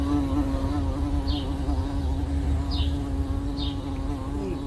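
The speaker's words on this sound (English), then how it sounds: "Hey George, what's all the buzz about carpenter bees in the garden" Carpenter bees buzzing in a garden, a continuous low droning hum with several brief higher whines as individual bees fly close past.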